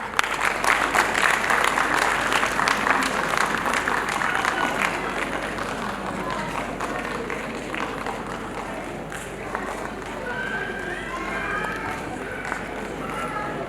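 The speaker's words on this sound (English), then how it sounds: "Let's celebrate the achievements of Lavanya Jain with a warm round of applause." Audience applause at a school annual day celebration: dense, sustained clapping from a large crowd fills the whole stretch, loud at first and easing slightly but steady throughout, with no speech over it.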